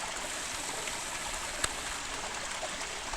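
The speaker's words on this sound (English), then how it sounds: "90-foot waterfalls" A 90-foot waterfall pours into a pool, giving a steady, even rushing roar of falling water with no voices, broken only by a single faint click midway.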